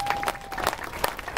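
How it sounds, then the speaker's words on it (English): An audience applauds at a Stop the Violence gathering in Bridgeport, Connecticut, a scattered patter of clapping at moderate distance, with a steady tone and some voices mixed in. "So I need y'all to give yourselves a round of applause."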